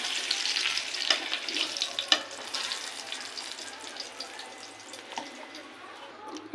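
Eggplant pieces fry in oil in a pan, a soft, moderately quiet sizzle broken by occasional sharper crackles and clicks, fading slightly as it goes on.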